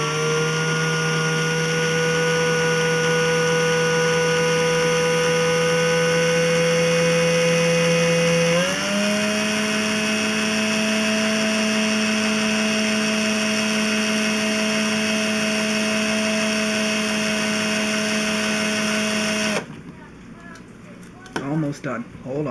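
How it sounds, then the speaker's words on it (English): A power drill twisting wire into a vape transformer coil whines steadily and loudly for nearly twenty seconds, its pitch stepping up once partway through, before it stops abruptly and a few faint handling noises follow. "put my drill back in the right direction"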